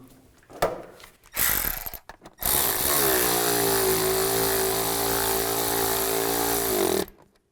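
A power tool tightens bolts on the radiator cooling fan clutch of a Nissan Xterra, a few short bursts and then a long, loud, steady whirring run of about four seconds that winds down abruptly.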